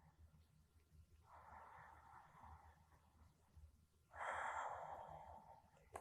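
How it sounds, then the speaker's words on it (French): Ujjayi yoga breathing through the nose with a soft hoarse throat sound, heard as two close, steady breaths, a quieter inhale followed by a louder, longer exhale, with no talk. "Et où on fait un petit son rauque à la fois à l'inspiration et à l'expiration."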